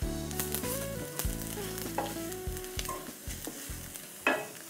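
Red chili powder frying in a very hot curry pan, with a loud, steady sizzle under sharp scraping and stirring clatter plus a few metallic knocks, fairly close and continuous throughout.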